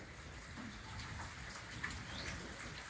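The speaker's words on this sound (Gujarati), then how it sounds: "આજે બે દિવસથી સતત વરસાદ વરસી રહ્યો છે" Soft, steady rain pattering on surfaces, a faint continuous hiss with occasional louder drops.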